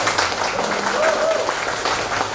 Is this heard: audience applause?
yes